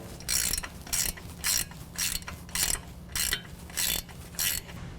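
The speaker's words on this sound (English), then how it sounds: "we're going to remove the lower and upper nuts holding on the knuckle" A ratchet wrench clicks in eight evenly spaced bursts while loosening the knuckle nuts during a lift kit install on a 2016 Chevy Silverado 1500, close and clear with no talking.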